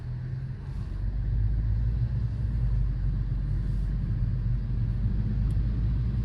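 A Mazda pulls away slowly from a stop on winter roads, heard from inside the cabin as a low, steady engine and road rumble that swells slightly after the first second and then holds even.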